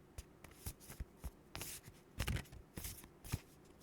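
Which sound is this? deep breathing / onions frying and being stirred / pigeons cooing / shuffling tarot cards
shuffling tarot cards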